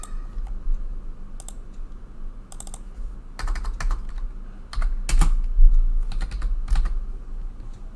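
Typing on a computer keyboard while entering a command in a Power Apps command bar, with bursts of quick clicking keystrokes, near and fairly loud, over a low steady background hum, growing busier toward the end.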